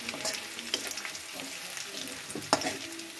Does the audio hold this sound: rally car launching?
no